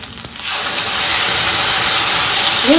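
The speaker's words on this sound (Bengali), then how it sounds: "তারপরে দিয়ে দিব টমেটো পেস্ট করে" Tomato paste hits a hot pan of ginger paste for a vegetarian black-cumin potato curry, bursting into a loud, steady sizzle and hiss after a brief quiet start.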